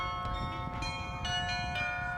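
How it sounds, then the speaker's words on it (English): Church bells ringing in Prague, a steady sustained peal with layered overlapping tones and repeated strikes, moderately loud and continuous throughout. "stop and listen to the bells when you hear them."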